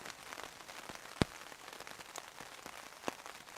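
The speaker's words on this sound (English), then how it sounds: "it's raining and it's forecast rain all day tomorrow" Steady rain patters on leaves and ground at a solo forest campsite, with a couple of sharp close drips standing out over the soft continuous hiss.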